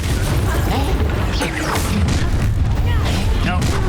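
An Incendio fire spell cast in Hogwarts Legacy bursts out amid busy combat effects, with repeated booms, whooshes and crashes filling the whole stretch, and voices mixed into the fight.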